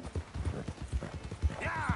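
A horse galloping in Red Dead Redemption 2, with rapid, rhythmic hoofbeats thudding close and steady and a brief whinny rising near the end.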